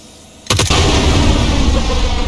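A bomb blast hits cars in a zombie-mode survival video game: a sudden booming explosion with a quick rattling burst, then a loud roaring rumble that holds steady to the end.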